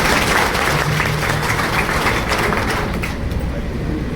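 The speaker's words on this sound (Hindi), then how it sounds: "कृपया उनका जोरदार तालियों के साथ स्वागत करें।" Loud, dense applause from an audience at a community career-counselling and talent-award ceremony in Bhopal, welcoming an arriving guest, steady throughout with a faint murmur of voices mixed in.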